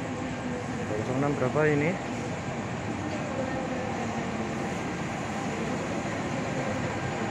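A CC206 diesel locomotive idles with a steady engine drone while being coupled to the Senja Utama Jogja passenger train at a station; a voice speaks briefly over the hum.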